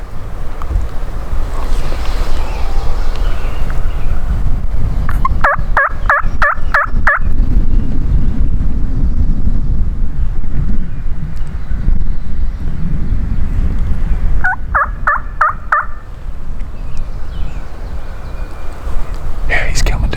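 Wild turkey gobblers gobble during a spring hunt outdoors: two rapid rattling bursts of gobbles, several seconds apart, at moderate distance over constant wind buffeting the microphone.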